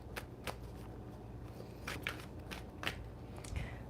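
Tarot cards shuffled close by in a quiet room, producing a series of soft crisp riffles and snaps at irregular intervals over a low steady background.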